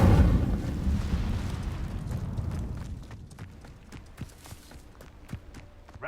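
A loud burst opens the Incendio fire spell in the Hogwarts Legacy video game, a roaring eruption of flame that slowly fades into lighter clicks and scattered pops with no talking.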